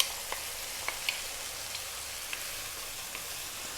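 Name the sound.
can of tomatoes sizzling in hot pan for tuna pasta sauce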